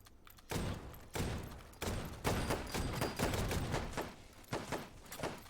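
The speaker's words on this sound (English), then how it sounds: "Beep2Bleep is putting that shotgun, using that shotgun what it was built for, and clearing rooms out with absolute ease." Shotgun blasts in a GoldenEye-style speedrun game ring out in a steady series of about eight loud, evenly spaced shots, with no talk over them.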